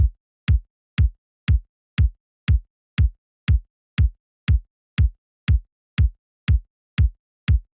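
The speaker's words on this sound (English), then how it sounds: "I'm going to lay down a 4 on the floor kick pattern that sounds like this." A four-on-the-floor kick drum pattern at 120 BPM, with sixteen punchy electronic kicks evenly spaced on every beat, loud and close with nothing else playing.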